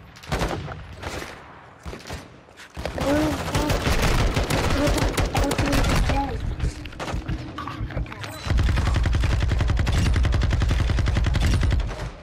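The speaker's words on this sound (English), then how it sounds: "Covering fire." Sustained automatic gunfire in the online shooter DMZ, loud bursts of rapid shots giving way to a steady heavy machine-gun rattle in the final seconds, with players talking over it.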